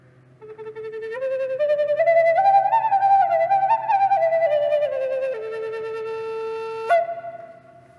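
A small wooden flute plays a steady, clear melody of stepped notes, close and moderately loud, ending on a brief higher accent.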